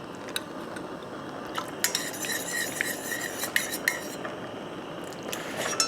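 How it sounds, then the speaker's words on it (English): A utensil scrapes and clinks against a pan while thickening sauce for roast chicken is stirred, giving a steady soft swishing broken by sharp metallic taps, heard up close with no talking. "I put some in it, stir it, and I look at it."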